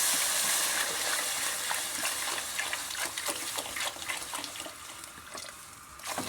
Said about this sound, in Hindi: इसको पानी डाल दिया, ये ढक्कन दे दिया